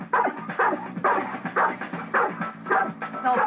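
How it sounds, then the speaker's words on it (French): A Golden Retriever barks repeatedly at close range, about seven sharp, fairly evenly spaced barks with short pauses between them, wanting a tennis ball. "Maintenant, il va aboyer."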